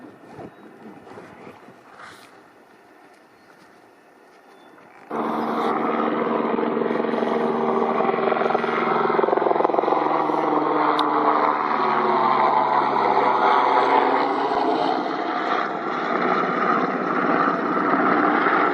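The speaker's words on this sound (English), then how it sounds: "Helicopter taking off from near Lake of the Falls" A loud, steady engine roar with broadband rotor wash starts abruptly after a quieter stretch and holds strong throughout as a helicopter powers up and lifts off nearby, near Lake of the Falls.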